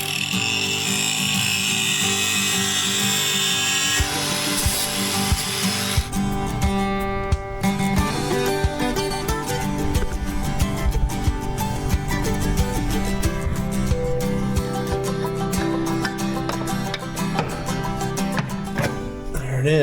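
A cutoff wheel grinds through a tapered metal part on a transfer case, producing a loud, continuous high-pitched whine and rasp that runs steadily throughout without pause.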